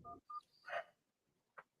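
Telephone keypad tones, three or four short discrete beeps spaced irregularly across a couple of seconds, fairly quiet, with no talking over them.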